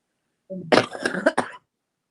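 A hoarse throat-clearing rasp leads into a burst of harsh, chesty coughs, close and loud, with no talking.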